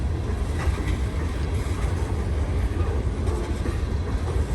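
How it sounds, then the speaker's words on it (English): A heavy Norfolk Southern freight train of storage cars, pulled by two locomotives on wet rails, rumbles past steadily and loud with a deep continuous roar and faint wheel clatter, no voices. "This is a pretty heavy train for only 2 locomotives"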